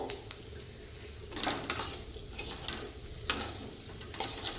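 Flat bean lentils and spices sizzle in a pan while a spoon stirs them, giving a soft steady fry with several sharp scraping clinks of utensil against metal.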